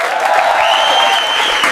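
Applause from a comedy night audience, a loud dense wash of many clapping hands sustained without pause, with no talk over it.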